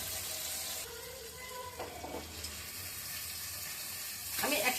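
Tapasi fish poured together into a hot pan of oil, a steady hiss of frying with a fresh burst of crackling sizzle near the end, close and moderately loud.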